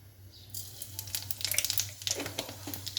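Five-spice seeds go into hot oil in a wok while cooking gourd greens, crackling and sizzling in quick, irregular pops that build from a quiet start, faint and close against a low steady hum.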